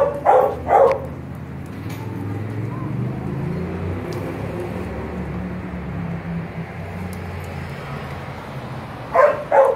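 A small Bichon-Spaniel mix dog gives a few short, sharp barks near the start and again at the end, with a low rumbling hum and quiet background noise in between.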